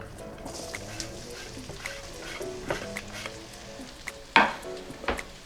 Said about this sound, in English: You want to saute this or cook this for about a minute.